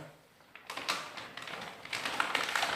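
Single-layer shrinkwrap plastic being trimmed on a boat cover, heard as a series of close, crisp snipping and crackling cuts in an uneven rhythm, with no talking.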